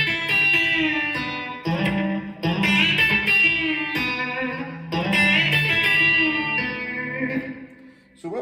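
B-bender electric guitar plays a twangy country lick, fretted with the ring finger on the 4th string, with notes bending up in short phrases and brief gaps between them, played alone at an even, moderate volume.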